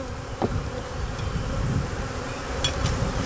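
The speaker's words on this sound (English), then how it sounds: "They're going after me. It's just on the hand there. Once they smell that pheromone." Honey bees swarm close around an opened hive: a dense, steady buzzing drone fills the whole stretch, with a few faint clicks and bumps over it and no talking.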